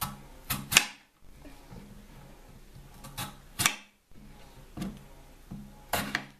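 A knife chops potatoes on a cutting board in quiet, close bursts of sharp, crisp knocks, grouped in short clusters with pauses between them.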